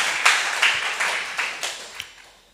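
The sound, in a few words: congregation applauding in church service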